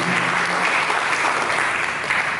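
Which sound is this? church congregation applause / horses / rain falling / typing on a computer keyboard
church congregation applause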